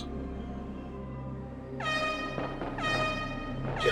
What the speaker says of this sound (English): Let's play an air horn sound.